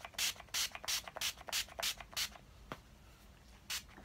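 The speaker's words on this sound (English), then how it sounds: "I'm then going to set all this first with my Urban Decay setting spray, and this is the De-Slick one." Urban Decay De-Slick makeup setting spray is misted in about eight quick, close bursts, one after another, then a single last spray after a short pause.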